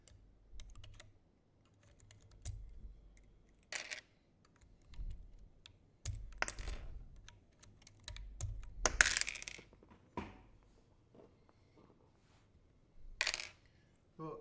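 A mechanical keyboard clatters in quiet, irregular bursts of fast keystrokes separated by short pauses, heard faintly from close by.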